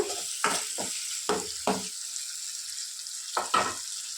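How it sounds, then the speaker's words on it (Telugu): Soft cooked tomatoes are mashed in a pan in a series of separate squelching, scraping pushes with short quiet gaps between them, close up and with no talk. "దీన్ని కొద్దిగా ఇలా లైట్గా మ్యాష్ చేసుకుంటే చాలా సాఫ్ట్గా అయిపోతాయి"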